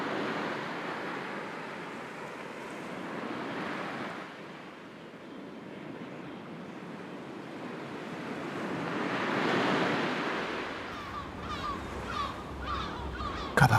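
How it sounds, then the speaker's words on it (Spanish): Sea waves roll onto the shore in slow, broad swells that rise and fade over several seconds. Wind buffets the microphone, and a few faint honking calls appear near the end. "Escucha el sonido del mar que te rodea."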